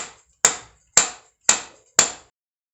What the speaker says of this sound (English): we use a rubber mallet on the axle bolt